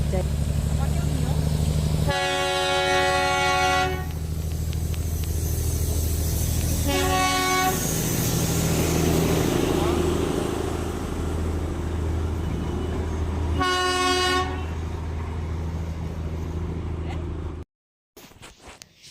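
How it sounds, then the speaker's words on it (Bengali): The Darjeeling toy train rumbles steadily nearby while its horn sounds three times in loud, harmonic toots spaced several seconds apart, before the noise cuts off abruptly. "আরেকটা টয় ট্রেন যাচ্ছে"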